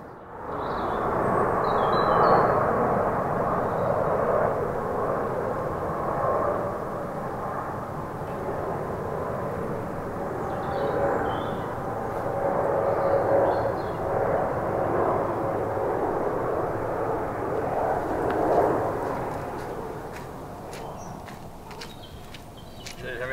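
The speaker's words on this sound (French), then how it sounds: "C'est un avion qui transporte les pièces" An Airbus Beluga cargo airplane, a transporter for Airbus parts, flies overhead with a broad, sustained roar that swells and fades gently over more than twenty seconds, heard from the ground.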